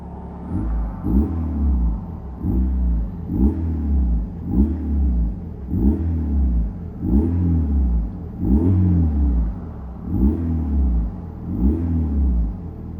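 A car engine revs repeatedly in a steady rhythm, each loud rising roar falling back before the next, about a dozen cycles close to the microphone with no talking.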